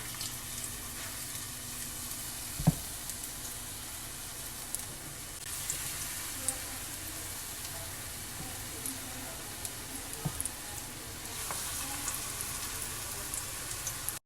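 Spinach, onion and potato pakoras fry in hot oil with a steady, close crackling sizzle, marked by occasional sharper pops and spoon clinks and no talking.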